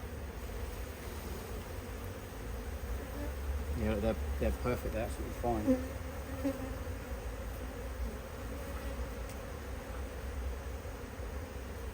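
Buckfast honey bees buzzing around an open hive, a soft continuous drone with a brief louder pass of nearby wings, while a person talks briefly in the middle.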